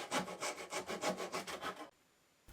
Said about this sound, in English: Next I cut all the splines to length